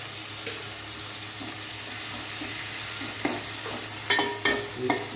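Green chilli, onion and tomato frying in a pan, a continuous close sizzle broken by a few sharp clinks and scrapes of stirring near the end, no voices.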